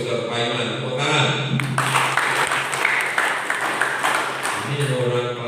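An audience at a community association's general assembly breaks into applause for a deputy minister, a dense burst of many hands clapping that swells and holds. A voice speaks at the start and again at the end.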